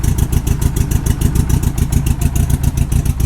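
A 1984 Honda Goldwing motorcycle engine idles steadily and slightly rough, its loud, even pulsing rhythm running unbroken and close with no talk over it.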